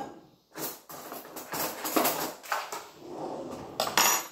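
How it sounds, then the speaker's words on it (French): Four tablespoons of sugar spooned into gluten-free pancake batter, heard as a series of close metallic clinks and scrapes of a spoon against a bowl, with gritty pouring rustles in between. "Hop, je vais mettre mon sucre, donc on a dit 4 cuillères à soupe de sucre"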